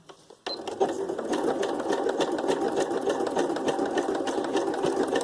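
A sewing machine stitches a decorative swirl pattern onto a paper tag, starting abruptly after a brief pause and then running steadily with a fast, even mechanical whir and rapid needle clatter, close and loud.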